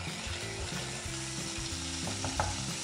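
Cumin powder and ginger garlic paste frying in coconut oil over a low flame, giving a steady soft sizzle with a few faint scrapes, with music running underneath.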